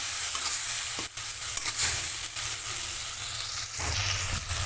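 A paste of ground green chili, cumin and ginger fries in hot oil for a soybean dish, giving a loud, continuous sizzle close up with frequent stirring scrapes.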